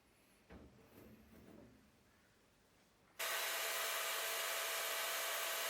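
An old fruit press wheel blasted with 80 mesh grit inside a shop blasting cabinet: after a few quiet clunks, a loud, continuous hissing roar of air and abrasive starts abruptly and holds steady.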